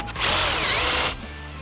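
A power drill fitted with a metal stepped bit bores a hole into a brush, whining loudly and steadily for about a second on its own before cutting off.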